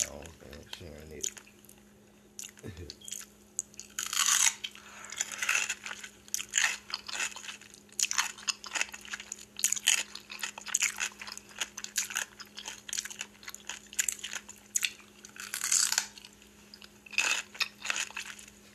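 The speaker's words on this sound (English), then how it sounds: "She really is crunching that pickle." Woman biting and crunching a pickle up close for ASMR eating, with repeated sharp crunches and wet chewing in uneven bursts, while someone talks over it.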